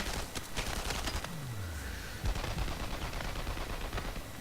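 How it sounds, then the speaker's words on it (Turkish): Sniper rifle fire in the Enemy Front video game gives several sharp, separate shots over steady background noise at moderate loudness, with no talk over them. "Şimdi sniper'ım var benim."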